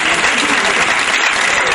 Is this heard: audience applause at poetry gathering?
yes